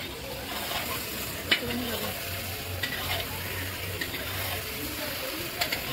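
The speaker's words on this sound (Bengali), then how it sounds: "এখন মাংস কষা হচ্ছে পিকনিকের" Meat being stir-fried for kosha in a large pot at an outdoor office picnic, a continuous sizzle with rhythmic scraping of the ladle and occasional metallic knocks, close with faint background chatter.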